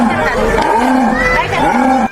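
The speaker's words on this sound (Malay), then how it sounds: "Jaguar" A jaguar roars in a single drawn-out, rasping call, loud and close, rising and falling in pitch.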